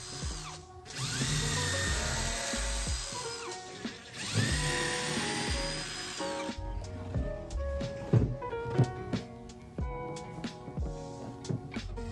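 A power drill whines at high speed in two long sustained bursts, then shorter pulses and clicks as it bores holes in wood, close and clear.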